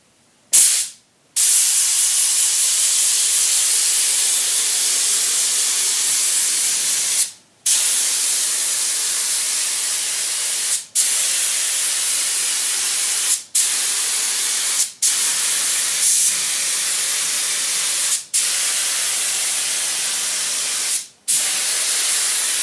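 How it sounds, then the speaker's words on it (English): Paint sprayer laying primer onto a wall during surface preparation: loud, continuous airy hiss in long bursts, cut by several brief pauses where the trigger is released, close to the listener with no talking. "next we're going to go ahead and lay down primer with the sprayer"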